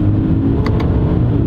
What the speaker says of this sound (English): And how about downshifts? We're going from fourth to second.